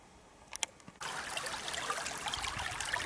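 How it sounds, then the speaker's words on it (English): Water running under seasonal ice, coming out of the rocks, sets in abruptly as a steady, full, close rushing flow, with a few faint knocks just before it starts. "we get to hear the water again"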